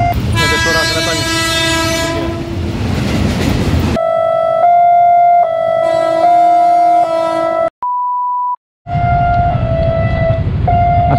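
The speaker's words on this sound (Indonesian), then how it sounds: "Ada suara keretanya." Horn blasts and rail noise from a KRL commuter train at the Bintaro Permai level crossing, with long sustained tones, a loud rumbling passage, a brief cut-off beep and a return of the loud train sound.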